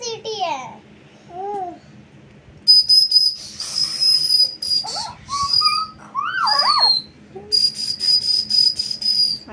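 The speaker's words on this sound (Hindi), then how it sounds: "वो मुंह में डाल के बजा रहा है।" A small child blows a found object in his mouth like a whistle, giving short shrill tones in bursts between pauses, with chirping and children's babble around it in a room.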